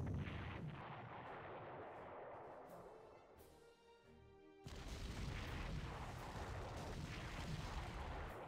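Artillery fire in the Panzer Corps wargame, heavy booming blasts that roll and rumble, dip briefly, then return as a loud sustained barrage.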